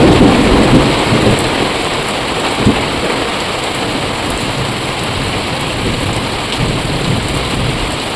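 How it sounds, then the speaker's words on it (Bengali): Heavy rain pours down in a dense, loud roar during a thunderstorm with strong wind, steady throughout with a low rumble near the start. "আর এইদিকে জোরে হাওয়া ছুটে গেছে, বৃষ্টিও নেমে গেছে জোরে প্রচণ্ড।"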